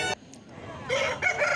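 A mature rooster about fifteen months old crows close by at a chicken market, a short bright call that rises, breaks, and resumes, with faint market background.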